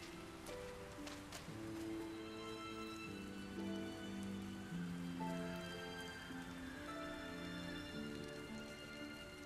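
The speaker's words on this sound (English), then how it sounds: "So really, really avoid the rain." Steady rain falls in the video game Sky: Children of the Light, a continuous soft patter of drops on surfaces under gentle background music, fairly quiet and unbroken throughout.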